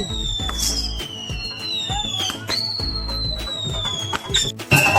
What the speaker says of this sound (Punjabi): ਰਾਤ ਆ ਗਈ ਹੈ ਜੀ ਪਟਾਕੇ ਚੱਲ ਪਏ ਆ ਜੀ